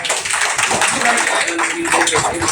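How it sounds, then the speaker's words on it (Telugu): An audience at a Lions Club event applauding a man named Santosh, a dense, continuous burst of many hands clapping, loud and close, with a voice speaking over it. "మన సంతోష్ గారికి మనందరం క్లాప్స్ పట్టాలి"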